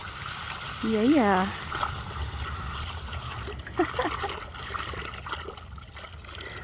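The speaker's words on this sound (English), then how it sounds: "I can film and pour water all at the same time." Water poured from a bathtub into a goose's tub trickles and splashes steadily in the background, with a brief voice and a short tonal sound heard over it.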